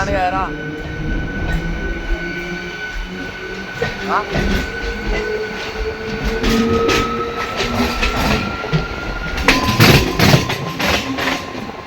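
A push-pull MEMU express passenger train runs at speed with rhythmic clickety-clack, a motor whine rising in pitch, and a steady rumble that swells toward the end.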